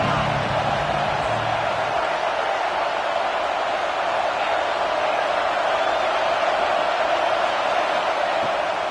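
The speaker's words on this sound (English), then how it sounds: "Decibels rising as the crowd gets behind this defense on 3rd down." A football stadium crowd on third down in Nebraska roars as a dense, unbroken wall of noise that stays loud and steady throughout.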